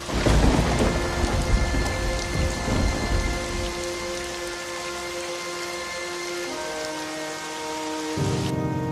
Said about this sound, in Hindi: बिजली की कड़क और बादलों की गर्जना बार बार उनके दिलों में डर भर रही थी।